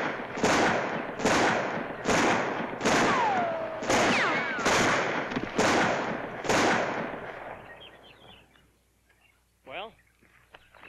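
A rapid string of about eight loud gunshots rings out in an even rhythm, each crack trailing a brief echo, before fading to quiet and a short sound near the end.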